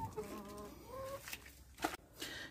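Chickens on a backyard homestead in Romania, with soft clucks and short calls near the mic that come and go among other low farmyard noises.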